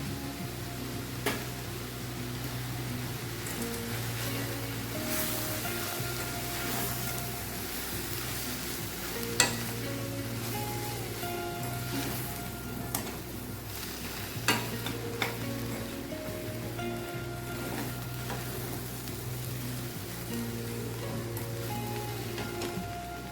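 Gangavayilaku greens frying in a pan with tempering powder, stirred steadily: a continuous close sizzle with recurring scraping strokes and occasional sharp clinks of the utensil, no talking.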